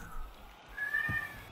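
A cat gives a short, faint meow over a low background murmur, one brief call with no talking.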